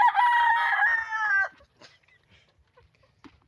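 A Black Calpara Peruvian rooster crows once, loud and close, a long strained call that cuts off abruptly, followed by faint clucks and rustling.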